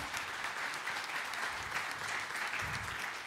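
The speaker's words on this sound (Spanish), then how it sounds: "también un aplauso para las dos, por favor" Audience at a talk on civil and commercial oral trials applauds, a soft, distant patter of many hands, steady and even throughout with no speech over it.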